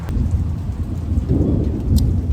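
Outdoor thunderstorm with a steady heavy rumble of thunder and continuous rain pattering on surfaces, loud and unbroken throughout.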